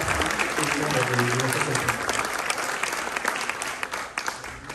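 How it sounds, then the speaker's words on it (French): Applause for association presidents at a mayor's New Year wishes ceremony in Pomponne, a steady dense clatter of many hands filling the hall, with a voice briefly heard over it early on. "Je vous propose qu'on applaudisse ensemble les présidents qui nous font l'honneur d'être là ce soir."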